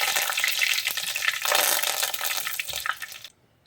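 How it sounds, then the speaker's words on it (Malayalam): Curry leaves and mustard seeds crackle loudly in hot oil for a Kerala-style sardine curry, a dense sputtering sizzle that carries on steadily, then cuts off abruptly near the end. "കടുക് നന്നായിട്ട് പൊട്ടിക്കഴിഞ്ഞാൽ നമുക്ക് കുറച്ച് കറിവേപ്പില ഇട്ട് കൊടുക്കാം"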